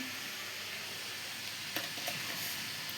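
Steady, fairly faint sizzling of food frying in a pan, with a few soft stirring clicks and scrapes partway through.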